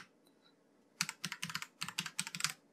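Quick bursts of typing on a computer keyboard while entering a username and password, a close series of crisp keystrokes in two rapid runs after a quiet start.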